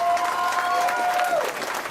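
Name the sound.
audience applause for the Captain Morgan girls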